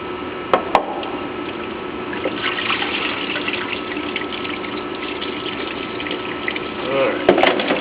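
Water sprays steadily while rinsing a car battery during battery service, a continuous broad hiss with a few brief knocks near the start and end.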